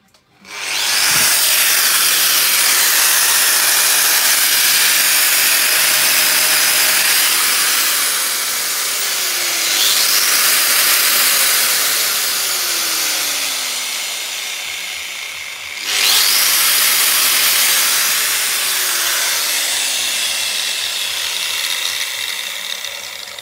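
A fully working Bosch 2923 angle grinder with its original plug and cord, running without speed regulation, gives a loud, steady, close motor whine that dips briefly and then surges back up twice as it is revved.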